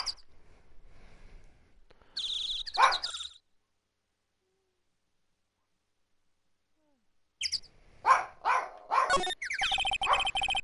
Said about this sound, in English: I think my dog's actually barking at these bird sounds